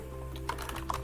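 Quiet, steady typing on a computer keyboard, a quick run of light key clicks over a low background hum with no one talking.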